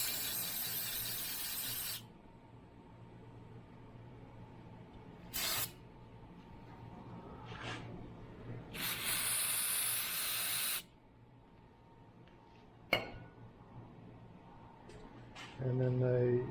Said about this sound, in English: And then I'm just cleaning them up with brake cleaner.